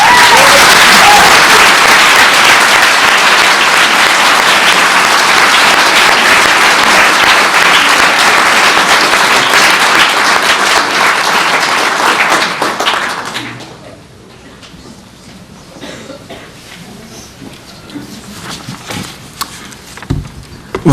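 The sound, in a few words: audience clapping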